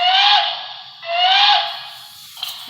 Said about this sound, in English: it sounds like a passenger engine that uses a higher pitched whistle